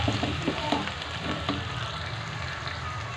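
Garlic and onion frying in hot ghee, a dense continuous sizzle with a few soft stirring knocks, close and steady with no talking.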